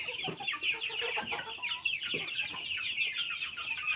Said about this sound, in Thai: ทุกคนเดี๋ยวเลี้ยงไก่ก่อน เดี๋ยวก็ต้องเก็บไก่นอนอีก